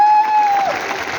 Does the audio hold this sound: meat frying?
no